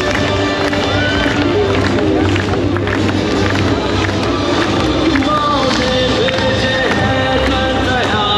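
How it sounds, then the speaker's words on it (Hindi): A large crowd at the Wagah-Attari border ceremony claps and cheers in a dense, continuous wash of hand claps and crowd noise, loud and close throughout. "तो ये आप देख सकते हैं तमाम लोग इस वक्त जो है वो तालियाँ बजा रहे हैं"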